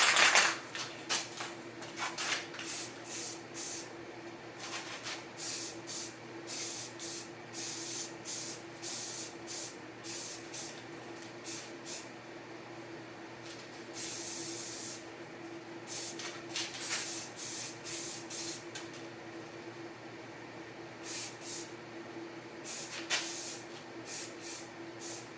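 Spray paint can misting paint onto a Crown Vic fender, repeated short hissing bursts of varying length with brief pauses between them, close and fairly loud over a quiet hum, no talking.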